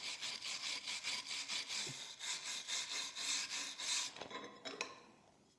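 Hand wire brush scrubbing slag off a 6010 stick weld, fast rhythmic back-and-forth scratching strokes close by, stopping near the end with a couple of light metallic taps.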